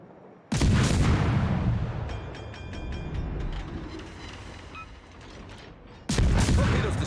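Ship guns firing in World of Warships during a destroyer battle: two heavy, thunderous salvos at the start and end, with rumbling mechanical game sounds and quieter distant booms between them.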